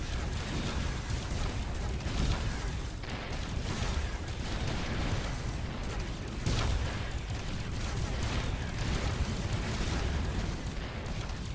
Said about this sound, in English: The explosions are cool, and when the ships explode, I like that.